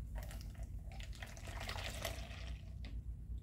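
Melon horchata, blended from melon with its seeds, pours through a kitchen strainer with a continuous close liquid splashing and trickling that fades briefly near the end.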